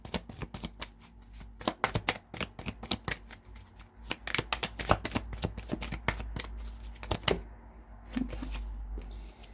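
Tarot cards being shuffled by hand, a rapid run of crisp riffling slaps and flicks close up, continuing steadily for several seconds and ending in a few softer taps, with no talking.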